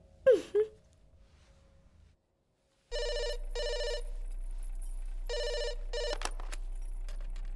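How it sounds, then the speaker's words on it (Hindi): After a brief vocal sound and a short silence, a telephone rings with repeated electronic bursts in a regular double pattern, loud and close, continuing to the end over a low steady hum. "सूर्या, तुम्हारे लिए फोन है।"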